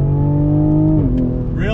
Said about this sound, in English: the sound from the engine